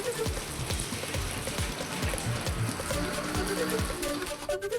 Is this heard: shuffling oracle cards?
no